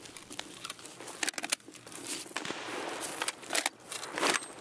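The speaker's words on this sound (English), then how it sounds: "That is sniper scab shooting." Enemy sniper scab rifle fire in a Destiny raid, a scattered series of sharp, crackling shots at irregular intervals, some clustered in quick bursts, set against a steady hiss of game ambience.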